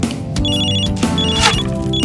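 A telephone rings in a home with bright, warbling electronic trills in short repeated bursts, loud and close with no talking.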